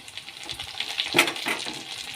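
Tomatoes dropped into fried onions in a pan, giving a soft, steady sizzle and crackle with a brief louder hiss as they hit the hot oil, fairly faint and close.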